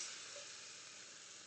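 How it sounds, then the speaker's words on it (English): Onions fry in a pan, a faint, steady sizzle with a soft, even hiss throughout and no voices. "I'm going to keep frying this up until my onions are nice and opaque looking"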